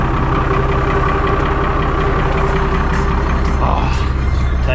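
A Nissan Patrol engine idles steadily, a continuous low mid-pitched rumble that holds loud and close throughout with no breaks.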